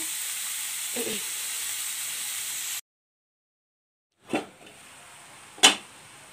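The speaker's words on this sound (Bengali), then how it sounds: "এখন আমি লাহে লাহে ভাজবো এটা।" Flat beans fry slowly in a pan with a soft, steady sizzle that drops out abruptly, then returns with a couple of sharp scraping strokes, close and fairly quiet.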